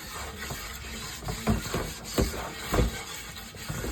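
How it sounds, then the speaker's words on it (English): A cast iron pan scrubbed roughly with a little water, producing close, rhythmic rasping strokes that swell and fade in uneven bursts over a steady background hiss. "keep a little bit of water in there and start scrubbing it"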